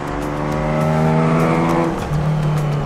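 A Ford Capri driving hard on a race track, its engine loud and close, revving steadily with a shift in pitch near the end, alone with no voices.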